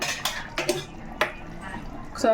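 A metal spoon stirs rasam in a pot, giving several sharp, close clinks and scrapes against the metal rim spread over a couple of seconds, with no talking.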